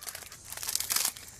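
Crinkling of a plastic bag wrapped on a cement flower pot, a run of close, scratchy rustles that peaks in the middle and then fades, with no talking.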